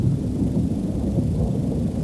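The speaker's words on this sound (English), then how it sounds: "Lightning will strike anything that stands high above the ground." A deep, continuous rumble of thunder rolling for a couple of seconds, heavy and low without a sharp crack, no voices.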